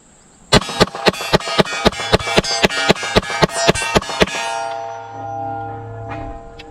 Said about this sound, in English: This one we are just mag dumping it to see how it does on that.